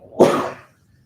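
A single sneeze bursts out during a calm yoga class, a sharp broadband explosion peaking quickly and fading within about half a second into quiet.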